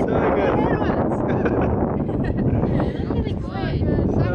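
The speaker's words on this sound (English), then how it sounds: "It's super windy, the storm is on its way" Strong gusting wind ahead of a storm buffets the microphone in a loud, continuous roar that fills the whole stretch, with speech faintly mixed in.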